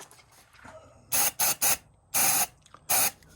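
Carburetor choke cleaner sprayed into an engine in short pressurized bursts, several quick hisses then two longer ones, loud and close with quiet gaps between them.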